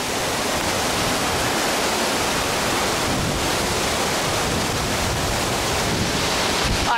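The Avencal waterfall roars close to the microphone in a dense, unbroken rush of heavy water, loud and steady for the whole stretch with no voices over it.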